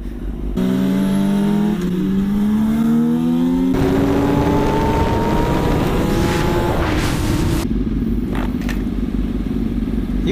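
A motorcycle engine revs and pulls hard in gear, whining up through rising pitch sweeps, then a gear change and another climbing surge, with clattery road noise; loud and close throughout, no talking.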